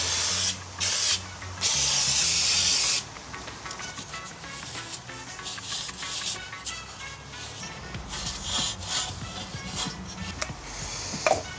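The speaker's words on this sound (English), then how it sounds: "Brake cleaner on there." Brake cleaner sprayed onto the rear brake of a Mercedes W203 in repeated bursts, a loud close hiss in several pulses at the start followed by quieter intermittent spraying.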